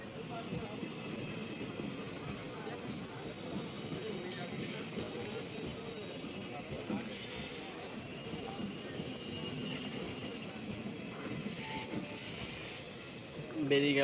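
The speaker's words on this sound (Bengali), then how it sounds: "বেরিয়ে গেল আমাদের ট্রেন।" Siliguri–Katihar Intercity Express pulling out after a chain-pulling halt, a steady low rumble of wheels and carriages that holds for the whole stretch under a murmur of voices.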